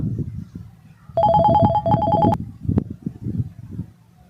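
A mobile phone ringtone plays a bright repeating electronic melody for about a second, loud and clear over background murmur and movement.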